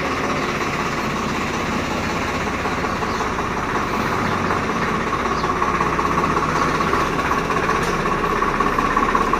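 A Swaraj tractor engine runs steadily, a low continuous rumble and vibration heard close by and alone, with no talk over it.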